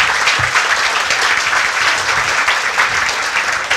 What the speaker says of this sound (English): Please give our volunteers for the day of your best round of applause.